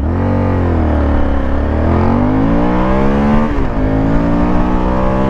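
Honda Varadero 1000 motorcycle with a stock, partly emptied exhaust, accelerating loudly and steadily up through the revs, engine note rising and falling with gear changes; the exhaust pops themselves are not clearly distinct.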